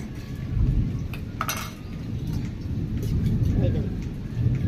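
Mango cake batter, made with mashed ripe mango pulp, is beaten in a bowl with a steady, busy scraping and sloshing rhythm, close and fairly loud. A person talks over the beating.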